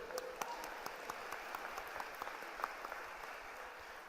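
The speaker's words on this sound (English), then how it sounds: "A round of applause." Applause from a crowd at a university commencement ceremony, a steady wash of many hands clapping with sharper individual claps poking through, heard faintly and from a distance.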